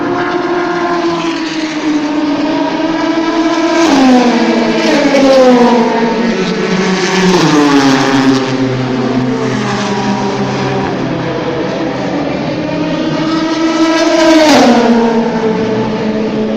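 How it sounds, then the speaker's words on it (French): Race cars lapping the Circuit de la Sarthe during the 2019 Le Mans 24 Hours test day pass one after another with loud revving engines, rising and falling pitch as they approach and fade, a steady stream of machines heard alone without talk. "C'est les voitures qui roulent."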